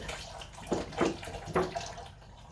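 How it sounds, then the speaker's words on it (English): Water pours and splashes into a Vitamix blender jar in three short bursts, close by, with quieter running water between them. "I'm going to fill up the Vitamix to 64 ounces of water"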